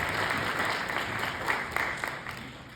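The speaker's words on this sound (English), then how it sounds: "And then, yes, that's a round of applause." An audience at a talk on HIV and depression breaks into applause, a steady wash of clapping that swells briefly and slowly thins toward the end.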